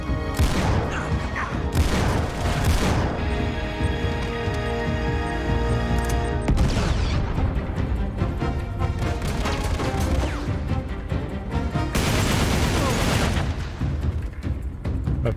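Repeated gunfire and booming impacts in Uncharted 3: Drake's Deception, with loud volleys and crashes arriving in waves over a dense, continuous battle din and music.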